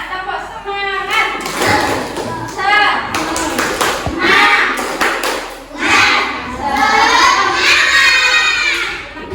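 Third-grade schoolchildren in a classroom clap in quick rhythmic bursts and shout along loudly and close. The clapping runs mixed with lively voices throughout.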